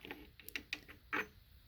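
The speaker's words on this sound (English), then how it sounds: "Just like that, the gear comes on." Metal gear sliding onto a shaft during a 2017 Kawasaki KX85 engine rebuild, a few quiet clicks and light metallic scrapes spaced across a short moment, close by with no talking.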